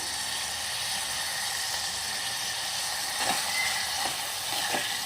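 Tomatoes with ginger-garlic paste and cashews cook in hot oil for phool makhani curry, giving a steady, close hiss of frying with a few soft clinks or stirs near the end and no voices.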